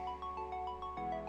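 Short bright chime sequence, like a notification bell effect, ringing in a repeating melodic pattern at moderate level with no voices.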